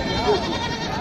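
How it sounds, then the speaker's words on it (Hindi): Female Jamunapari goat bleating briefly at a crowded livestock market, a short wavering cry heard up close amid the murmur of people talking. "और ये फीमेल है, बकरी है"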